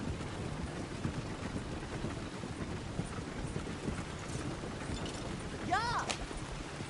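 In Red Dead Redemption 2, a horse's hooves keep up a rhythmic clip-clop on a road amid windy ambience, while a brief tonal call or whinny-like sound rises near the end.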